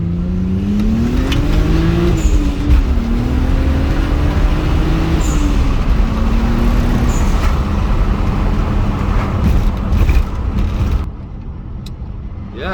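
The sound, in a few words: BMW 135i car driving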